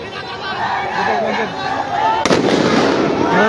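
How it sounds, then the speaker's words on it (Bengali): A sharp gunshot bursts out amid a street clash with army troops, sitting over a noisy crowd with shouting and chatter, followed by lingering crowd roar. "আবার ফায়ার হয়েছে"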